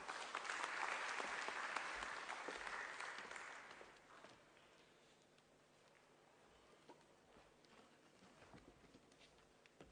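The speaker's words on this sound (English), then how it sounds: "Please give him a big round of applause." An audience at a KwaZulu-Natal trade and investment indaba on World Halal Day claps for an introduced official, with loud applause for about four seconds that thins to scattered claps and room noise.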